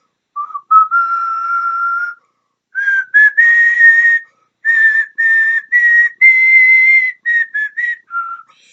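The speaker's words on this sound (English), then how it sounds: "every time he shows up, he whistles" Someone whistles Silver Bells in a film scene, clear, sustained phrases with short pauses between them, close and fairly loud, with no other sounds.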